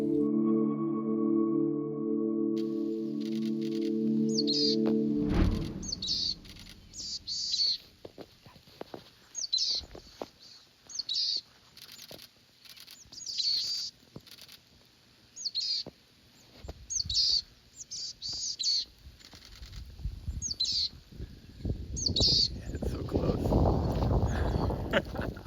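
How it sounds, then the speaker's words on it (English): A flock of Boreal Chickadees mixed with black-capped chickadees gives repeated high, thin calls at moderate distance after a low hum fades out, with faint rustling toward the end. "We just got a new species, a Boreal Chickadee."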